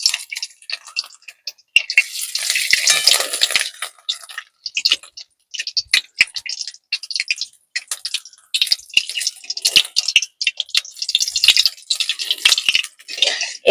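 Potol and egg snack fries in hot oil, giving bright, intermittent crackles and spits that come in clustered bursts with short quiet gaps, close up and without talk.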